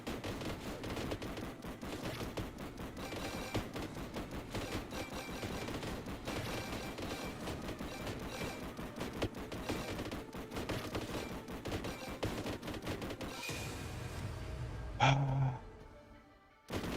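Rapid repeated bolt gun fire from the Warhammer Survivors action game, a dense rattling stream of shots at steady level for most of the stretch, ending in a sharp burst before fading out.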